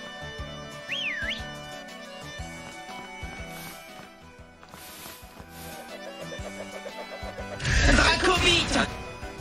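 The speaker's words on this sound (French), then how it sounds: "Je peux siffler" A person whistles a short rising and falling note, followed by a quicker trill, mixed with game sounds and someone talking in French, ending in a loud burst.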